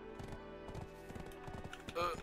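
Donkey mount hoofbeats in the game Black Desert Online: a steady clip-clop of hooves trotting, heard under continuous game music and a speaking voice.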